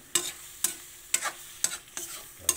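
Squid and shredded mussels cook in coconut milk with a soft simmering bubble. About six regular stirring strokes, roughly two per second, clack close by.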